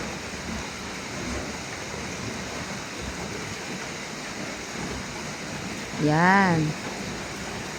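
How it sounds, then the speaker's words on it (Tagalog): Heavy, steady rain pours down outdoors at a pig pen, a continuous dense hiss, with a voice speaking briefly and a short tonal squeal rising near the end. "hindi pa rin tumitila ang ulan"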